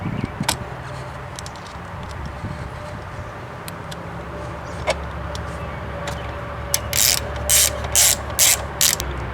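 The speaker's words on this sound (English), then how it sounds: "Going to take the 10mm bolt with the socket and ratchet and drop it in." A socket ratchet turns a 10mm battery hold-down bolt on a 2001 Volkswagen New Beetle, giving several short bursts of quick clicking near the end over a quiet garage background.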